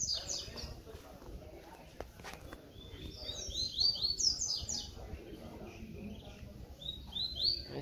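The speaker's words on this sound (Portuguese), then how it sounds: "Outro pássaro aqui" A caged papa-capim (capped seedeater) songbird sings short, bright twittering phrases in two bursts, moderately close, over low background noise and occasional quiet speech.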